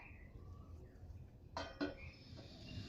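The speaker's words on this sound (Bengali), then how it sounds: "এর জন্য আমি বসিয়ে দিচ্ছি কড়াই" A metal wok set down on a kitchen stove gives two quick clanks in succession over a quiet room background, followed by faint ringing.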